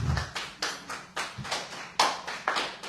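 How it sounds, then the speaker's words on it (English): A small crowd at a track meet claps for a bronze medal sprinter, giving a short run of sharp, evenly spaced hand claps with no cheering. "So I know it's a small crowd here, but let's just give her a hand."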